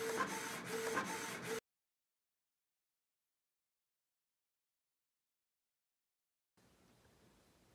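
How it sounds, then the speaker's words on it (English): A Canon PIXMA TS3122 inkjet printer with an ink system runs for a second and a half with rhythmic mechanical whirring, then near silence, then a faint hiss. "I will just let the printer run and print the 500 pages"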